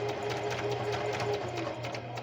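A sewing machine stitches thin fabric in a steady, continuous mechanical whir with a fast rhythmic needle patter, close and fairly loud with no talking.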